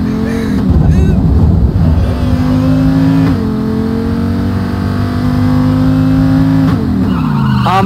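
Loud car engine revving with tires squealing and skidding in the Payday 2 video game, sustained engine drone with sudden shifts and crunching impacts as the vehicle crashes, with voices talking over it.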